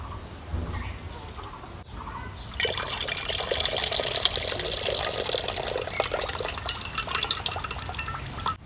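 Masoor dal lentils being washed in water, first with quiet handling and then a steady pouring, splashing trickle up close that continues to the end.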